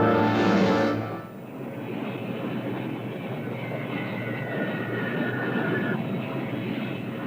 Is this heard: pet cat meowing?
no